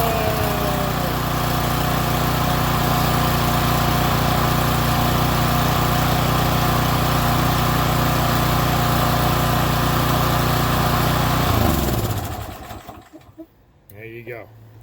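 Toro Timemaster lawn mower with key start running loud and steady, a close, continuous engine drone for about twelve seconds before it cuts off abruptly and goes quiet.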